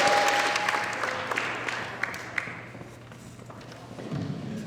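Audience applause at a concert choir performance, a broad wash of clapping that is loud at first and gradually thins and fades over a few seconds.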